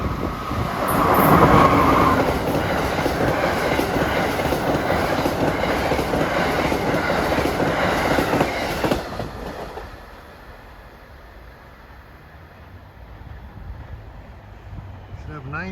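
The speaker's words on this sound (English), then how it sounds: "Approaching is Amtrak 184," Amtrak 184, running Washington to Boston, rushes past close by with a loud roar and rhythmic wheel clatter that cuts off after about nine seconds, leaving a fainter receding rumble.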